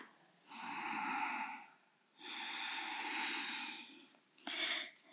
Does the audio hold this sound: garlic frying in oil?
no